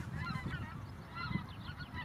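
A flock of greater white-fronted geese flying over and calling, with a chorus of high-pitched honks and cackles that overlap continuously at moderate distance.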